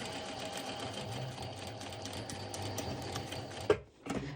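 A sewing machine runs a back stitch on color block bottoms, its rapid mechanical chatter going steadily up close before a sharp click and a short pause, then a brief burst of stitching again.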